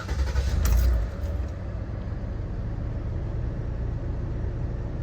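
A 2011 Ford Escape with a 3.0L V6, freshly fitted with new intake manifold gaskets and spark plugs, cranks and catches in about a second, then settles into a steady, even idle rumble nearby.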